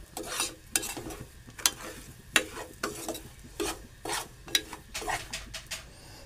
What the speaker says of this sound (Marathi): रवा आपल्याला खमंग असा भाजून घ्यायचा आहे.